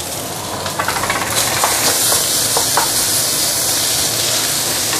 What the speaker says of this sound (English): See? So easy to stir fry.